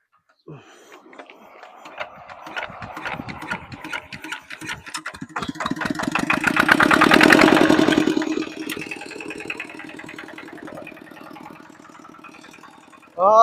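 A tractor engine chugs in rapid rhythmic pulses, building to a loud peak midway before settling back to a steady mid-level running beat, with a sharp burst at the very end.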